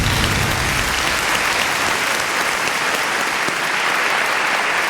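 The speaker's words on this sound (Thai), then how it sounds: "ขอเสียงปรบมือกับซีดีด้วยครับ" A studio audience on a Thai TV talent show claps for a seven-year-old contestant doing a ball-juggling challenge, a thick continuous roar of hands lasting nearly five seconds, loud and full with no clear speech over it.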